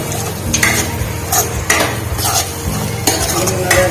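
Loud, close stirring of dry potato sabji in a pan, with a spoon scraping and clanking against the metal in several strokes over a low sizzle.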